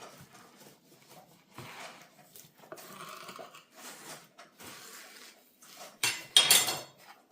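A Shun bread knife saws open a crusty sourdough loaf with rasping strokes, faint at first and then a louder crackling burst of crust near the end; no talking.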